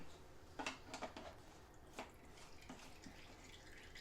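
Old engine oil trickles out of the drain hole of a 2016 Toyota Camry, heard as faint, scattered drips and splashes spaced irregularly over a low steady background, with no talking.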